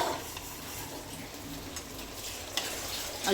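Onion masala fries in a pan, giving a faint, steady sizzle with light crackles and no talking.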